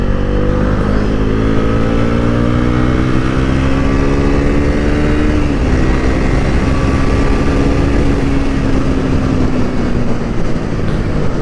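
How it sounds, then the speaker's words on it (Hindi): A 2025 Bajaj Pulsar NS400z pulls hard in fourth gear from about 70, the engine note climbing steadily as a loud, close drone under strong wind rush, no talking. "बाइक 4th गियर में चल रही है 70 की स्पीड पर। हम यहीं से थोड़ा खींचेंगे"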